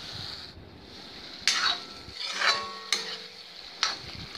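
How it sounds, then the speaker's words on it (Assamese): Potatoes stir-fried with brain over low heat in a pan for an egg curry, a soft steady sizzle broken by a few sharp scraping strokes of the spatula, close and alone. "এইদৰে আলুখিনি মগজখিনিৰ লগত কম জুইত লৰাই লৰাই ভাজি থাকিব লাগে"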